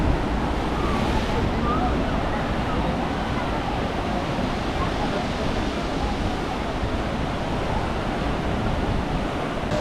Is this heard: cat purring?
no